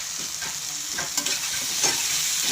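Turmeric and chili powder fry in a pan while being stirred, giving a constant close sizzle broken by quick scraping strokes of the spatula, with no voices.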